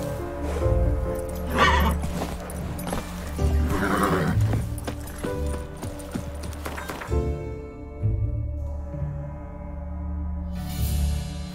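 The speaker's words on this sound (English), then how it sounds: "Whoa there, Roach" A horse neighs loudly and repeatedly, with clip-clopping hooves and thudding steps close by, the whinnying fading out toward the end before a brief final burst of noise.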